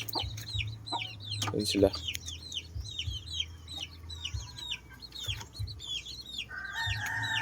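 An ash-grey hen and her newly hatched chicks fill a yard with high, rapid peeping and soft clucks, close and continuous, while a person speaks briefly and other rustles and thumps break in.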